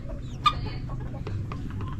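Pet chickens cluck in a coop ahead of feeding, a few short calls rising over a steady low background rumble, with one brief louder call near the middle.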